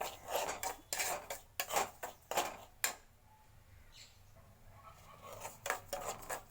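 Fine semolina (rava) being roasted in a pan for kesari bath, heard as a series of scraping, clinking spatula strokes against the pan in irregular bursts, with a quieter pause in the middle.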